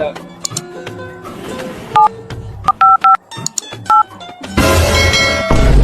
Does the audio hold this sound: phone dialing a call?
yes